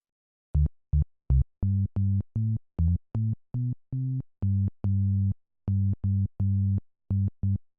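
Short, deep SH-101 style synth bass notes play a choppy rhythmic pattern, each tone clean and hollow, alone with no other sounds.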